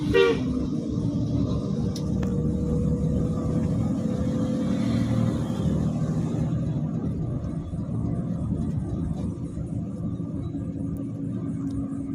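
A bus driver plays a telolet horn from inside a moving bus: a short melodic horn toot at the start over a continuous low engine and road rumble that carries on steadily throughout.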